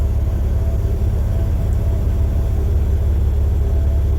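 Steady low engine rumble of road traffic, like idling or slow-moving vehicles close by, continuous with no voices, heard on a shuttle bus ride between Braintree and North Quincy.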